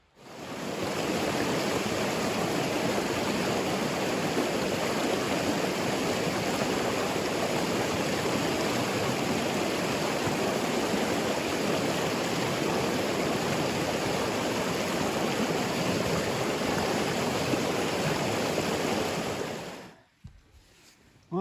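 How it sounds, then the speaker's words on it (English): A creek flows steadily nearby in the Ponca Wilderness by the Buffalo River, Arkansas, a continuous rushing and burbling of water that holds level for about twenty seconds before cutting off. "beautiful little creek"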